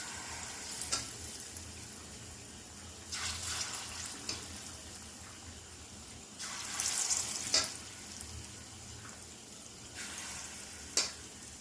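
Taal bora, palm fruit fritters, fry in a generous amount of hot oil with a low, continuous sizzle and several brief, louder hissing bursts as the batter is stirred and turned.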